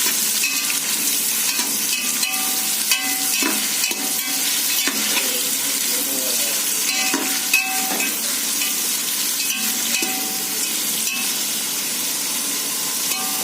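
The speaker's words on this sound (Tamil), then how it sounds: "நல்லா வெங்காயம் நல்லா செவக்க வதக்கணும்" Onions sauté in hot oil for vegetable biryani rice, a loud steady sizzle broken by frequent stirring clatters of a spoon against the pan.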